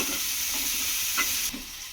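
Tomato chutney frying in a pan, a steady close hiss of sizzling oil filling the whole moment, with a soft stir scrape near the end and no voices.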